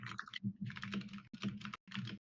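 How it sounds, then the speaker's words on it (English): Rapid clicking of a computer keyboard being typed on, close and fairly loud, in several quick bursts separated by short pauses. "We can hear you typing."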